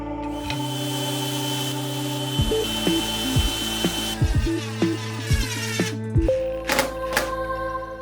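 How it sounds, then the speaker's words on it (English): A power drill drives screws into a wooden blade holder glued to a base. A loud whining motor rises and stops in repeated bursts, with the pitch dropping as each screw bites. It is close and there is no speech. "after it's dry, I can drive in some screws"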